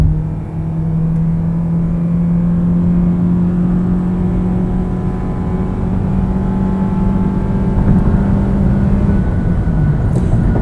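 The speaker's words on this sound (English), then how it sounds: "here I'm going to open it full throttle" A 2023 Toyota Prius accelerates at full throttle up a highway on-ramp, a steady, loud engine drone and rising whir holding throughout with road and wind noise underneath.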